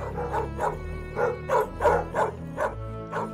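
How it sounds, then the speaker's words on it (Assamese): Dogs bark repeatedly in a steady series of yips and bow-wows, about eight evenly spaced calls sounding somewhat distant in a forest at night. "তেনেতে দূৰত কুকুৰবোৰে ভুকিবলৈ ধৰিলে।"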